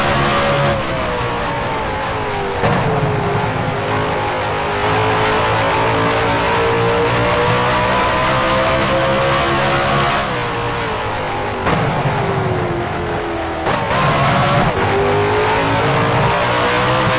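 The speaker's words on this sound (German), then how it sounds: "Fährt in die Boxengasse." A Formula 1 race car in the F1 Challenge video game, set at the 1966 USA Grand Prix at Watkins Glen, pulls into the pit lane, its engine droning loud and close and rising and falling in pitch with gear changes.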